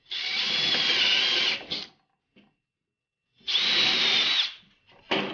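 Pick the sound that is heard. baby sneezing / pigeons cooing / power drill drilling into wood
power drill drilling into wood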